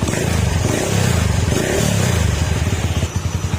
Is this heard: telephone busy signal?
no